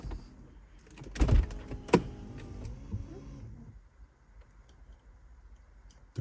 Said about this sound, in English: So when I turn the car off,